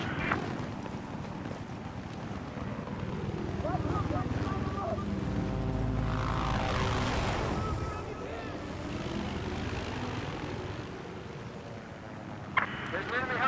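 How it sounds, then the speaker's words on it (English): An enemy helicopter flies in Battlefield 4 multiplayer, its rotor and engine roar swelling to a loud pass near the middle and fading, with game radio voices talking over it. "There's an enemy helicopter operating east wing red."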